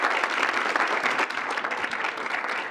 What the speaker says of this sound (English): Can we give Madeline a round of applause?